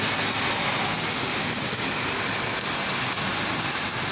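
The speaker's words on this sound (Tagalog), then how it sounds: "dito lang ako magpatila ng ulan" Steady rain pours onto a wet village street, a dense, even hiss of drops with no pauses and no voices.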